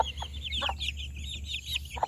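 Chickens cluck repeatedly in short, choppy bursts, fairly close, over a low steady hum.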